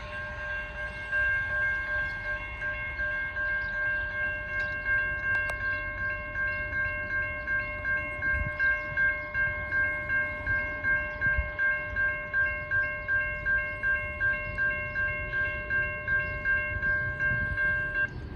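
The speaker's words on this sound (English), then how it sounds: "We're going to catch the Ram rail grinder going across the railroad crossing over here" A rail grinder crosses a railroad crossing while the crossing bell rings in a steady, pulsing tone over a low, rolling rumble of the machine, moderately close and continuous without talk.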